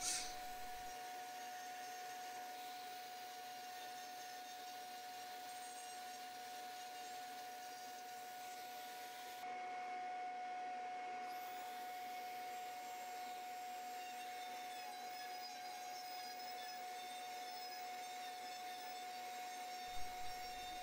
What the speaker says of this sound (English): when I'm grinding out these areas to be inlaid